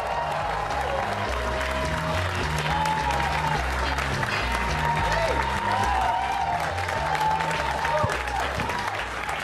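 Comedy club audience applauding and cheering loudly for a stand-up comedian being introduced onstage, continuous crowd clapping with whoops over thumping walk-on music throughout.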